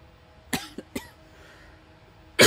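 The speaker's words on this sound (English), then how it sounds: "apologies for any coughing" Several sharp coughs from a person, three short bursts in quick succession followed by a louder, harsher cough after a pause, close and clear against a quiet background.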